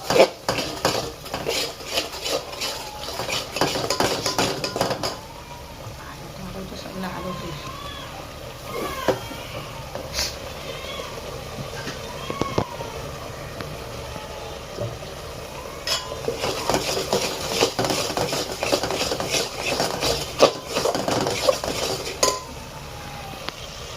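Masala for a crab curry roasts in a pan while a utensil scrapes and clinks against the metal in busy bursts, with a soft sizzle underneath; a voice talks at times during the stirring.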